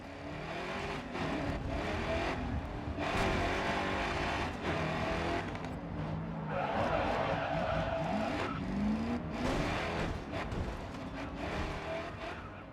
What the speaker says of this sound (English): I was totally fine just listening to my vehicle's engine and my tires squealing around a corner from track to track